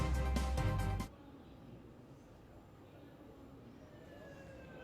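Ambulance and fire brigade sirens at an airport emergency scene. They blare loudly for about a second, then drop to a faint, distant wail over low background rumble.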